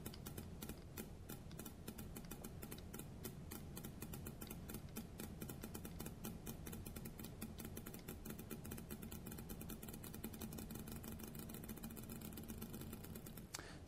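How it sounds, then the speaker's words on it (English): Steel ball bearings dropped down tubes bounce on stainless steel and amorphous metal plates, making a long run of sharp, rapid metallic ticks that keep going steadily throughout without any talk. "I'll drop these two ball bearings down these tubes and watch them bounce off the metal plates"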